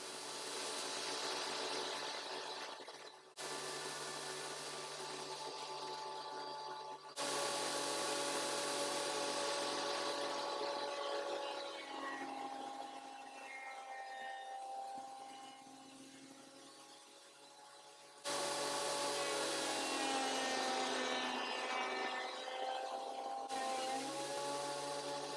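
Power saw blade cutting strips of hard old oak: a loud, sustained whining buzz with shifting pitch, broken into several cuts separated by brief pauses and changes in load.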